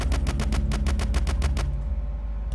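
Automatic gunfire in the zombie video game One More Night, a loud, rapid string of about a dozen evenly spaced shots lasting under two seconds, followed by a fading ringing tail and low game rumble.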